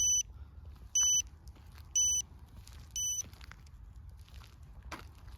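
Four short electronic beeps from an invisible dog fence collar repeat at a steady one-second pace, then stop, leaving faint background rumble.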